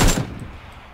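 Loud burst of video game gunfire, a rapid cluster of shots at the start that decays into a fading echoing tail, with no voices over it.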